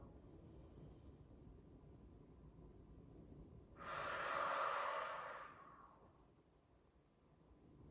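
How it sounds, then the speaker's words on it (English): A single forceful exhale blown out through pursed lips as if extinguishing a candle, following a held breath during a yoga breathing exercise; a broad, close rush of air lasting about two seconds over a quiet room hum. "Inhale and hold your breath until you feel like you can't hold anymore, and then blow out like you're blowing out a candle."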